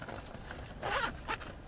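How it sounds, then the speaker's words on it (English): A carrying case for an emergency jump starter battery pack is zipped shut in two quick, close pulls, the second shorter than the first, with no talk. "we're going to put this cable in the case so we don't lose it"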